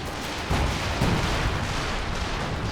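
Booming 152 mm artillery shot in a Company of Heroes 2 battle, landing as a heavy thump about half a second in and followed by more rumbling impacts over continuous battlefield noise.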